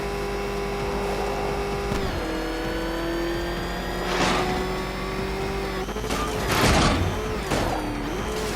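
A battered, ramshackle car motor in a Batman video game hums and revs steadily, its pitch climbing and dipping, with a couple of louder surging bursts near the end and no talking.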